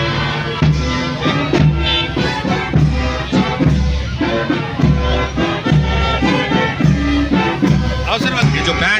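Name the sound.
band playing the Suswagatam welcome tune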